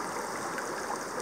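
Shallow stream current flows over bedrock during gold prospecting, a steady continuous wash and rush of water close by, with no voices.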